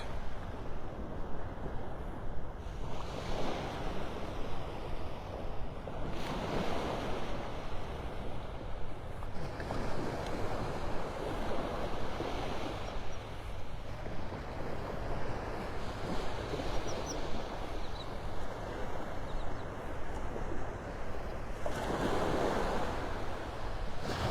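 Waves break on Delnor-Wiggins beach in North Naples, Florida, each surge swelling and fading every few seconds over a steady background wash, heard from a short distance at moderate volume.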